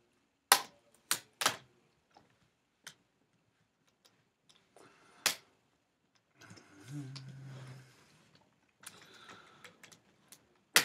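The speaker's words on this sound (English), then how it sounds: "I'm just gonna pry this off, kinda like so." A laptop screen bezel on an HP DV7 being pried off by hand, producing a few sharp plastic clicks and snaps, then a brief creaking scrape and more clicks, close and isolated in a quiet room.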